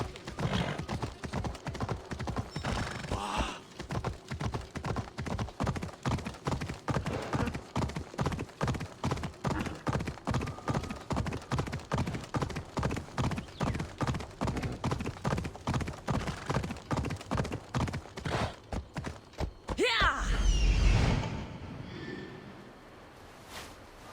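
Horse hooves gallop in a steady, fast clip-clop rhythm for about twenty seconds in Assassin's Creed Odyssey, close and loud, ending in a brief rustling burst with a possible snort.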